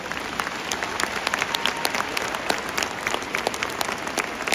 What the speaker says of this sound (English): So could you please give the two girls a round of applause?